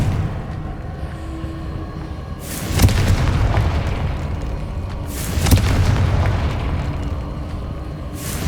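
Fire spell explosions from Hogwarts Legacy, two roaring blasts a few seconds apart, each swelling into a broad rumbling whoosh over a low game ambience.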